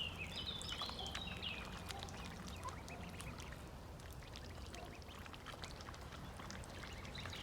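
Soft duckling peeps and quacks come through at a distance over a continuous trickling, pouring water sound, fairly faint and scattered.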